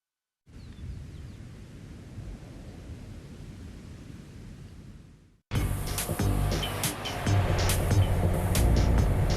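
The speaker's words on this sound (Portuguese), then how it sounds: "Este é um Oshkosh Striker. Um carro de bombeiros personalizado, projetado para proteger aeroportos e passageiros de todo o mundo." An Oshkosh Striker airport fire truck drives past; a steady broadband rumble gives way after a short gap to a louder, closer stretch of engine and road noise with scattered clanks.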